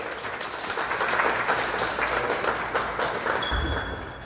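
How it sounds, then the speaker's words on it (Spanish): Applause from a lecture audience welcoming the speaker at a film censorship conference, a moderate, steady patter of many hands clapping together for several seconds in a room. "les pido un fuerte aplauso para la conferencista del día de hoy"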